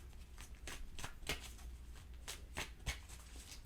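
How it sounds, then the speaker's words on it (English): Tarot cards being shuffled by hand in a series of quick riffling bursts, several sharp flicks spread across the stretch, close and fairly quiet with no talking. "They want me to shuffle one more time, I think."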